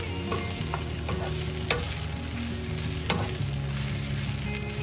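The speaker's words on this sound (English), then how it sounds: "all I'm going to do is mix this around and let the idlis heat up from the heat from the pan" Masala idlis tossed in a hot pan with chilli seasoning, a dense steady sizzle with a few sharp scrapes and knocks of a spoon, close and alone without speech.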